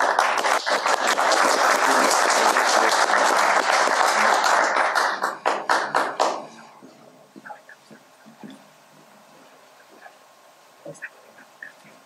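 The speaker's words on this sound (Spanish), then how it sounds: "Aplausos, por favor." Loud applause from the audience at a museum-day talk held at the Inca Museum in Cusco, dense clapping that keeps up for about five seconds, then breaks into a few scattered claps and dies into a quiet room with faint rustles.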